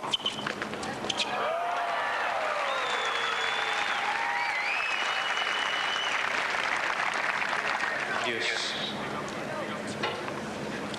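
Tennis crowd at a 1996 Boetsch–Edberg match applauding an ace, sustained clapping and cheering from a large crowd with whistles and shouts, steady and loud throughout.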